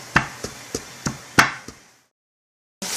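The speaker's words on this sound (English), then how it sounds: "I use one third cup of sticky rice in here and gonna smash it." Six rhythmic pounding thuds, evenly spaced and close, a pestle striking sticky rice in a mortar, then a brief silence.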